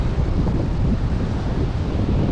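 Water rushes over a shallow river crossing as a constant broadband wash, mixed with wind buffeting the microphone and no other sound standing out.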